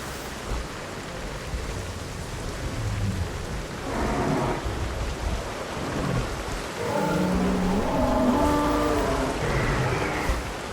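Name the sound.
rain falling outdoors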